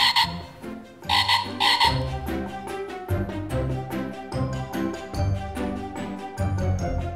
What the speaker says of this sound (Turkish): Ama başka bir kurbağa var vıraklayan.